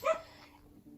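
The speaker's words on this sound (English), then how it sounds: "Sorry about the dogs" Dogs give one short, close bark or yelp at the start, which fades into a quiet room.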